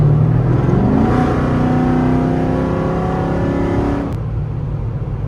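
A cammed Chrysler 300 accelerates hard on a cold snowy night, engine roaring loudly and climbing steadily in pitch for about four seconds before cutting off abruptly, leaving a lower rumble; heard from inside the car with no talking.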